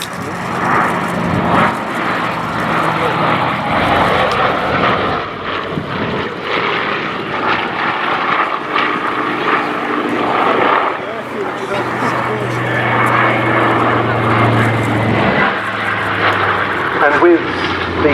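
A North American B-25J Mitchell twin-engine propeller bomber roars past at an airshow with a loud, continuous droning engine rumble, while a commentator talks over the public address throughout.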